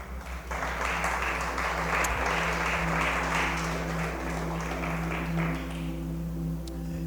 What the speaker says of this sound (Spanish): Dale ese aplauso a Cristo.